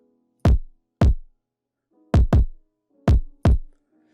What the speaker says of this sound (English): it's a really simple kick pattern